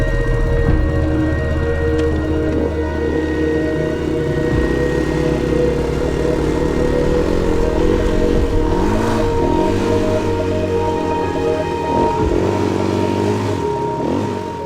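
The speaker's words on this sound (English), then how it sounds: "Watching us ride through deep sand wasn't always the prettiest of sights" An adventure motorcycle labors through deep sand on an offroad trip in Victoria, Australia, its engine droning loud and close with rising and falling revs throughout.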